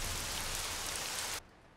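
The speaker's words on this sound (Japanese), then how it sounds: "今の時期はゲリラ豪雨も多いし仕方ないでしょ。" Heavy summer downpour, steady dense rain hissing loudly and evenly, then cutting off abruptly near the end.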